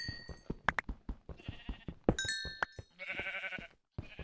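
Blocky, game-style sheep bleats from Minecraft come in several short repeated calls, mixed with clicky in-game sounds and brief gaps of quiet.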